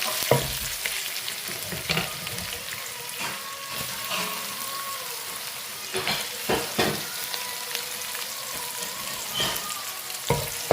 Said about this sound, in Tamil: நல்லா பொறிக்க உடனே பூண்டு தட்டி வச்சிருக்கேன் இதை போட்டுக்கேன்